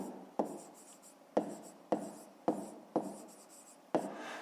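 Chalk or pen strokes writing the answer to a fifth-grade maths fraction exercise: seven short, sharp writing bursts at a steady rhythm, each tapering off, close and alone.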